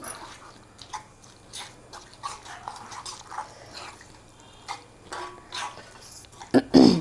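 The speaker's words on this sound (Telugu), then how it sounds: "ఇంకా గిన్నెలోకి తీసేస్తున్నానండి" Scattered light scraping and clinks of a spoon against a bowl as radish-tomato chutney is scooped in, with a louder clatter at the end; quiet, no talk.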